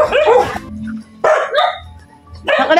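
A pack of pet dogs lets out three loud, close bursts of barking and yipping, with short quiet gaps between them.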